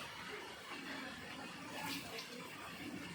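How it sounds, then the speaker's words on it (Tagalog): Water boils in a cooking pot while kangkong (water spinach) is being cooked, giving a steady, continuous bubbling hiss that stays at an even, moderate level throughout. "kumukulo na siya."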